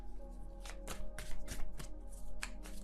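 A tarot deck is shuffled by hand in close, crisp riffles and slaps, a quick series of sharp card flutters and taps over a few seconds with no talking.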